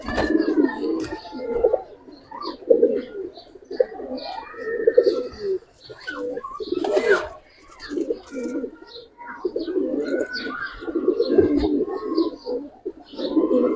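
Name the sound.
Giribaz pigeons cooing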